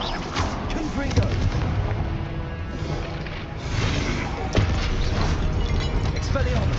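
Fiery spell blasts from Hogwarts Legacy combat, a dense run of booming, crashing impacts and explosions layered over battle noise, with a couple of sharper hits standing out and voices present.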